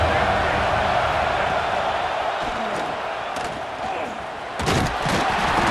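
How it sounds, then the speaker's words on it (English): Stadium crowd at an Ohio State Buckeyes football game against Michigan roars loudly and continuously on third down, a dense wash of cheering with a few sharp bursts, under a broadcast commentator's voice. "The Buckeye crowd alive on 3rd down."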